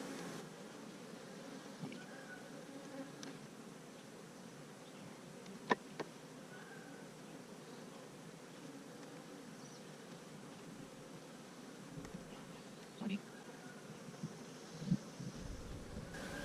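Honeybees hum steadily around an open hive during an inspection, a faint continuous buzz with a few brief louder passes close by.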